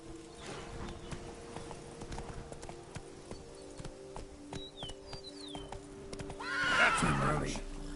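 A horse's hooves clip-clop steadily on the ground in the Witcher video game, at moderate volume under faint voices, and the horse lets out a loud whinny near the end.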